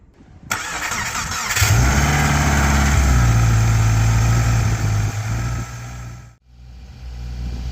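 A 2015–2021 Subaru WRX with an FA20 engine cranks over after an alternator replacement, catches, and settles into a steady, loud idle close by, with a brief dip near the end.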